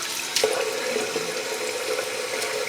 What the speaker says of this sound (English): Let's see if we can do a quick rinse.